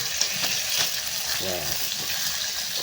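A tarka of onion, garlic and lentils with tomato sizzles and crackles steadily in a pan, close and continuous, with brief stirring scrapes and low voices in the background.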